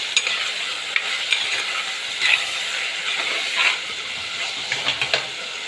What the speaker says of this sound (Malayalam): ഒരു നാലഞ്ച് രണ്ട് വെളുത്തുള്ളി നമുക്ക് ഇട്ട് കൊടുക്കാം എന്നിട്ട് ഇതിൻ്റെ പച്ചമണം മാറുന്ന നമ്മൾ നമുക്കൊന്ന് വഴറ്റിയെടുക്കാം